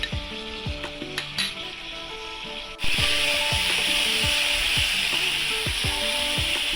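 Onion paste hits hot oil in a pan with a sudden burst of loud, broad sizzling that stays steady, while sharp scraping and stirring clicks from a utensil repeat throughout, close and with no talking.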